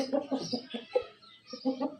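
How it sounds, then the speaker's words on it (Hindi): A penned Java rooster clucks close by in a rapid series of short, throaty calls. "यहाँ पर हमारा जावा मुर्गा बंद है"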